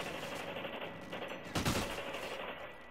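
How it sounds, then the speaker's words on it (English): Gunfire from a weapon fitted with a flash suppressor in a video game: one sharp, loud burst in the middle, set over a steady noisy background. "let me show you flash suppressors better than muzzle break"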